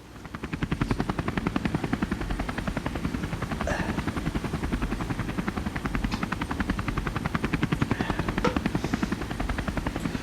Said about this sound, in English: the thudding sound of returning helicopters as they dust off and land